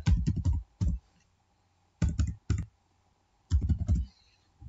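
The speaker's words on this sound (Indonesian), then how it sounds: "Atau kita ketik dulu aja lah, nilai ujian" Typing on a computer keyboard comes in several quick bursts of clacking keystrokes separated by short pauses, close and fairly loud with no voice over it.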